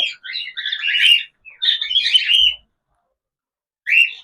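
Bright, shrill cockatiel chirps in quick bursts, two long chattering runs, a pause, then one more short burst, close and fairly loud.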